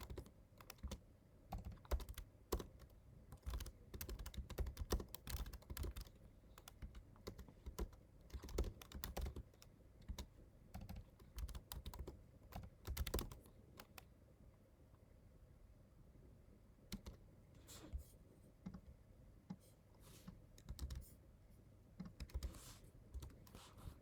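Keys clacking in quick, uneven bursts as a Linux terminal command is typed on a computer keyboard, close and fairly quiet, with short pauses between runs of keystrokes and no voice.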